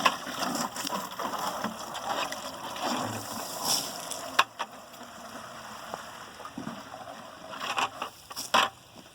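Water runs into a container for ducks on a winter night, a steady gushing splash with occasional knocks and clunks from handling the vessel nearby.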